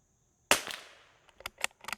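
Sako Quad rimfire rifle firing: one sharp, loud crack with a short decaying tail, followed by several quicker, fainter crack-like pops and clatters.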